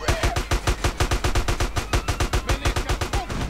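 AK rifle in GTA San Andreas firing in one fast, evenly spaced automatic stream, about two dozen sharp shots in a row, loud and close with no pause.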